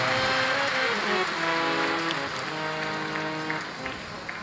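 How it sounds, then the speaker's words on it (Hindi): A crowd at a Shiv Mahapuran religious discourse in Bathinda, Punjab claps steadily and loudly throughout, a dense patter of many hands with music or tones sustained underneath. "एक बार जोरदार ताली बजाकर यजमान परिवार के लिए साधुवाद"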